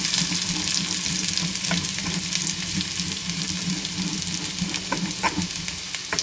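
Food crackles and sizzles steadily as it caramelizes in a pan for homemade spaghetti, a loud, continuous fry dotted with occasional stirring clicks.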